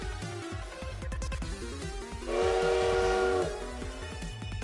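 A train in the Mega Man Star Force video game chugs with rhythmic puffs before a loud, sustained steam whistle blows for about a second, then the chugging resumes.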